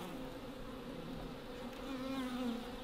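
Honeybees buzz around a hive in the far north, a faint, steady droning hum with a slightly louder bee passing close near the end.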